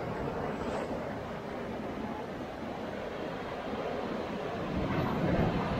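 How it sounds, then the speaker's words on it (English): Ocean waves at La Jolla Cove, San Diego, a continuous rumbling wash of surf over rocks, steady and moderately close, swelling slightly near the end with some wind. "Those waves back there, coming up."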